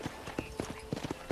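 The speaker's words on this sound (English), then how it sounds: "let's see if you can still ride a horse" A horse's hooves clip-clop in a quick, rhythmic gait while being ridden in the Western game Red Dead Redemption, fairly close and clear with no talk over it.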